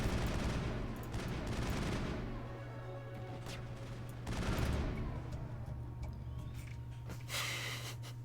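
A firefight in the game Mass Effect, with bursts of gunfire and heavy impacts rising and falling against a constant low hum, fairly quiet overall and with no voices.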